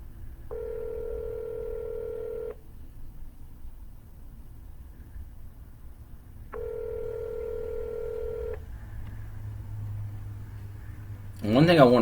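Two long steady touch-tone beeps from a telephone being dialed for a real estate cold call to a canceled listing, each lasting about two seconds, over low background hum, with a short burst of sound near the end.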